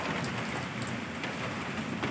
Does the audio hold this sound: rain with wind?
yes